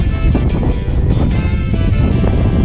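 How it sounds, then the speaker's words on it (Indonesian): Strong wind gusting across open sea during a fishing trip at Sendang Biru in south Malang, roaring steadily with a loud rush and rumble that buffets the microphone throughout. "Oh, angin tambah gede."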